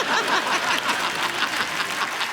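A studio audience at an Indian comedy talk show claps steadily and densely for a film, filling the whole moment without pause.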